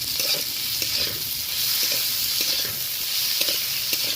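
Chopped tomato and onion sizzle steadily in a pan, with repeated close scraping strokes of a spoon stirring the mixture throughout.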